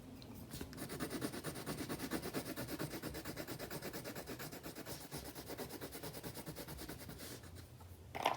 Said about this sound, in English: I'm just using crayon to colour that.